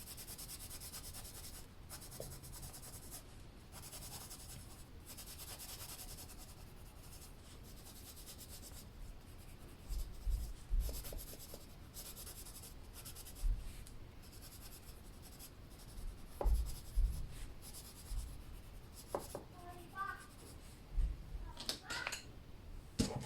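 Colored pencil strokes lightly blending over paper, a soft continuous scratchy rubbing close by with occasional taps and pauses, mostly steady and quiet.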